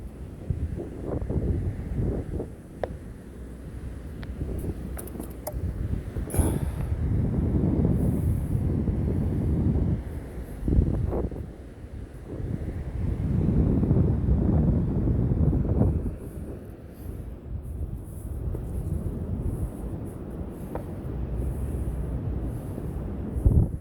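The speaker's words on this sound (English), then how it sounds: "Windy." Steady wind at a San Francisco beach buffets the microphone for the whole stretch, a loud rumbling roar that swells and eases in gusts.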